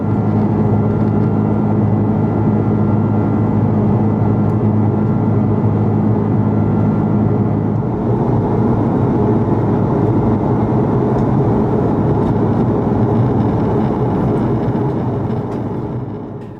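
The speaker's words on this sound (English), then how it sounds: "I personally found the sound of the Rolls-Royce Trent 700 engines really soothing" Steady, loud drone of Rolls-Royce Trent 700 engines heard in the cabin of an Airbus A330-300 in flight, a constant low hum with a broadband rumble that shifts slightly midway, no voices.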